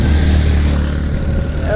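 An auto rickshaw engine putters and drones close by, loud and steady as it idles or pulls away, with faint voices underneath.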